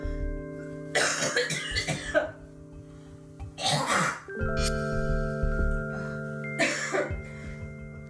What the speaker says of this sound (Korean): 기침을 늘 달고 살고요